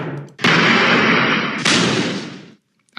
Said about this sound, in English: we'll have a lot of different crash and explosion effects. I'm going to listen to some of these quickly